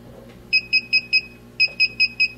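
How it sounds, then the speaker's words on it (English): A DJI Phantom 3 drone beeping while updating its firmware, two groups of four evenly spaced, high, clear electronic beeps separated by a short pause, close and alone over a faint hum. "you can see it's blue now and beeping, and it's literally updating the firmware right now"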